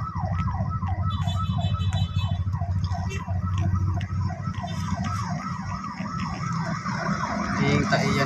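A police car's siren wails in a steady, repeating rising-and-falling cycle through traffic near Dasmariñas Village, loud and continuous over the low rumble of engines.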